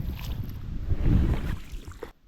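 A small motorboat pulling away on a lake during a fishing trip, its low engine rumble and water wash swelling to a peak mid-way, then fading before the sound cuts off abruptly.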